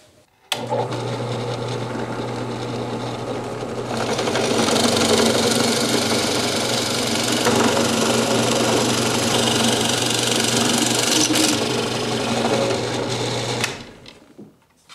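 A drill press motor whirs steadily, then grows louder and rougher as the bit bites into wood, holding for about ten seconds before winding down.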